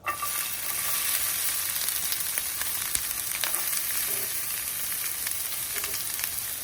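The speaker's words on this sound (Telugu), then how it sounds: "ఇప్పుడు మనం సేమ్ ఆయిల్లోనే వెజిటేబుల్స్ కొంచెం ఫ్రై చేసేసుకుందాం" Vegetables fry in oil in a pan, a dense, even sizzle with scattered pops and crackles, close and fairly loud throughout, with no talking.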